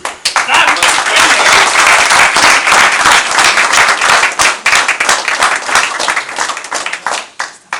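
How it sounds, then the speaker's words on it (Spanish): Loud, dense applause from an audience welcoming the president of Accelerate at a corporate event, sustained clapping that thins toward the end, with a few voices mixed in. "vamos a recibir con un fabuloso y tremendo aplauso al señor presidente de Accelerate"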